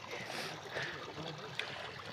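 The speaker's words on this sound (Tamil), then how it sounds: "ஃபுல் ஐஸுக்குள்ளே தண்ணி வருது" Faint, steady trickle of water running beneath ice on a snowy Himalayan trek route, a soft continuous wash with a tiny click near the end and no voices.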